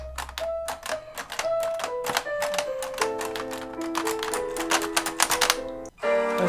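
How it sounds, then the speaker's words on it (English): A motor-driven LEGO piano mechanism strikes the keys in quick succession, sharp plastic clacks mixed with short ringing piano notes forming a busy, uneven run that ends with a brief pause and a final held chord. "when this thing moves up and down, it causes the motor to move and to hit the keys"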